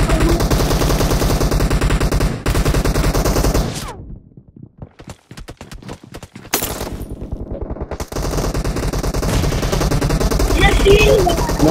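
Machine gun fire in a close-combat video game: a long rapid burst of closely spaced shots, loud and near, with a sharp staccato run of individual rounds in the middle, while a voice talks through parts of it.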